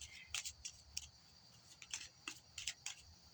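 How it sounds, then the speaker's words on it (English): Tarot cards drawn and handled, soft quiet snaps and flicks of card stock in scattered bursts, close and faint, with no talking. "So let's get a few more cards here to complete this deck."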